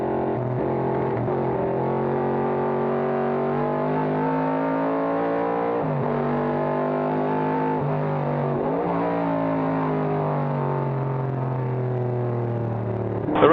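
Race cars on track during a vintage historic race, including a 1971 AMC Javelin, heard as a loud, sustained engine drone with shifting pitch as cars pass and change gears, continuous throughout.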